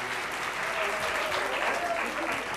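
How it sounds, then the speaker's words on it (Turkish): A studio audience at a holiday special applauds in a dense, steady wash of clapping that holds even throughout, with a faint voice now and then beneath the crowd. "alkışlar gelsin."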